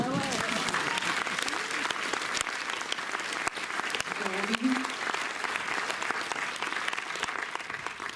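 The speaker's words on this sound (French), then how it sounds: "Mais rien que ça peut s'applaudir quand même, non?" Cinema audience at a Montreuil film screening and talk applauds steadily, a continuous dense patter of many hands filling the room, moderately loud with faint voices beneath.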